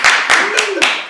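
A small group of people clapping during a casual podcast recording, four sharp, loud claps in quick succession close by, with a voice briefly audible underneath.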